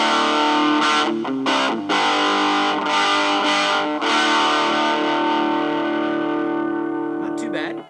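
Distorted electric guitar played through a tiny wooden amp with the gain set low, giving a gritty tone with reverb. Sustained chords and short note bursts ring out loud and close, with no talking, then fade out at the end.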